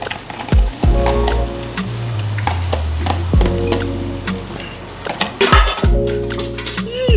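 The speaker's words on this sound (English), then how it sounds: "You just dump the veggies and go." Chopped vegetables dumped into a hot pan on a home stove, with loud sizzling and frying plus clanks of the pan and utensil scrapes, heard up close and with no one talking.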